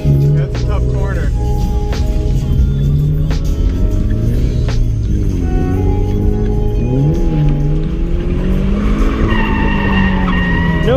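A Subaru FRS drifting at a drift event, with loud continuous tire squeal and skidding over a droning, revving engine that rises and falls through the slides, close and dominant, with a voice talking over it.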